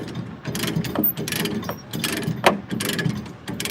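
A ratchet wrench loosens a bolt with quick runs of metallic clicking, close and crisp, in uneven bursts with short breaks.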